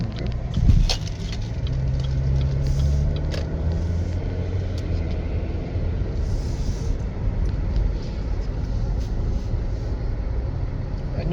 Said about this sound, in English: There's 2 cars coming out of there.